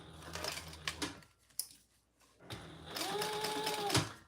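Sewing machine stitching leather, bursts of rapid mechanical whirring and ticking separated by a short quiet gap, fairly soft and close.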